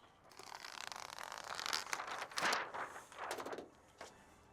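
Thin plastic window tint film for an R34 being unrolled and handled, giving quiet crinkling and crackling rustles that swell and fade in several bursts, with a sharp tearing-like crackle near the end, close and fairly soft, no talking.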